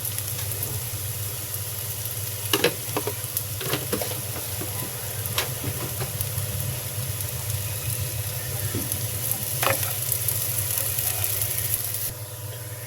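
Pulao rice frying in a pan with a spoonful of sugar, giving a steady sizzle under a low steady hum, with a few sharp scrapes and clinks of the spoon now and then.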